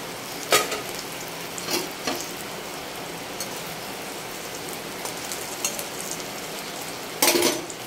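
Chicken cutlets fry in a pan of hot oil, giving a steady close sizzle like light rain, with a few louder bursts of spatter and clatter and no one speaking.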